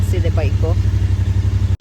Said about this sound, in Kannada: ಸಖತ್ ಫಾಸ್ಟ್ ಇದೆ ಬೈಕು.